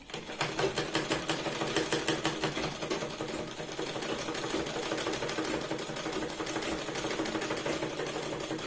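A sewing machine runs in steady rapid bursts as it stitches fabric for a Punjabi top, its needle clatter a close mechanical rattle that keeps going with only slight pauses.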